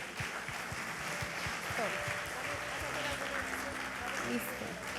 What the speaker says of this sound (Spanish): Le das un aplauso Amén al Señor por eso.